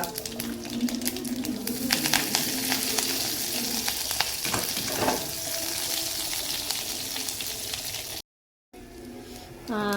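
Mustard seeds, garlic and curry leaves sizzle and crackle in hot oil for a Kannada beetroot and green gram curry, a loud steady frying hiss with spatters, briefly cut off near the end.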